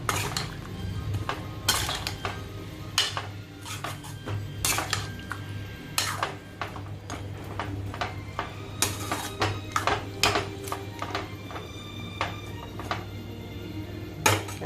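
Spices being stirred in a cooking pot, a metal spoon clinking and scraping against the pot in irregular repeated knocks over a steady low background hum, fairly close, with no talking.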